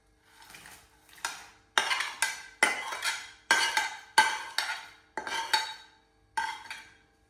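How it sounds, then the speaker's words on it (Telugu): A spoon clinks and scrapes in a metal pot as dry fruits go into saffron milk for sheer khurma, with repeated rhythmic stirring strokes, close and clear, no talk. "ఇప్పుడు ఈ మిల్క్లోకి డ్రై ఫ్రూట్స్ వేసేస్తున్నానండి."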